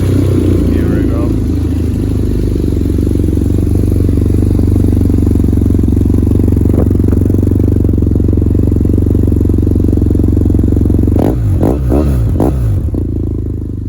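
A 2009 BMW S800T motorcycle engine runs at a steady idle close by, with a few brief revs near the end and someone talking over it.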